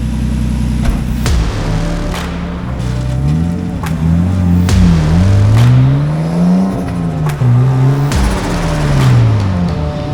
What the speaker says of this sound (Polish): Teraz jedzie Paweł